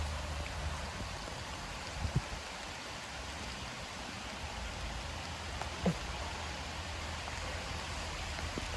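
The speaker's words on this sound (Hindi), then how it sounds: "बारिश आ गई यार, ये क्या है।" Steady rain falls outdoors as a dense, even hiss with a few louder drops, continuous and unbroken, with no talking.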